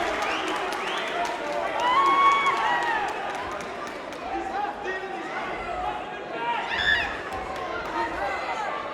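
A vocal boxing crowd at an English cruiserweight title fight roars and chants for Deion Jumah, a dense sustained noise of many voices with shouts rising and falling, and a commentator talking over it.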